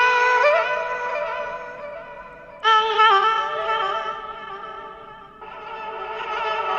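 Chopped vocal sample played back in Ableton: sustained sung-sounding tones in three phrases with abrupt cuts between slices, fairly loud and steady, no talking.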